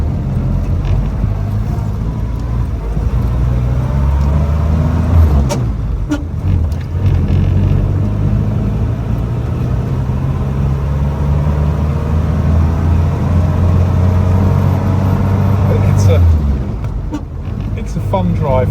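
A 1949 Ford Prefect E493A drives along with a steady low engine hum and road rumble, engine note shifting as it moves, with passing traffic noise around it.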